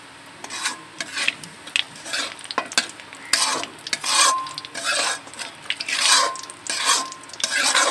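Dry red chillies and black cumin crackle in hot oil left from frying magur fish, bursts of loud sizzling rising and falling while a spoon stirs and scrapes the pan, with no voices.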